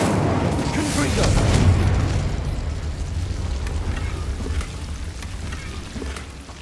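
A Confringo blasting curse goes off in a wizarding video game, a deep rumbling boom that swells and then decays into a long crackling tail, loud and close with no talk over it.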